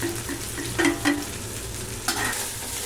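Mixed vegetables for veg fried rice fry in a hot pan, a steady sizzle broken by a few louder stirring scrapes, close and without speech.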